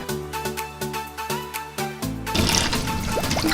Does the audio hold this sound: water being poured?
yes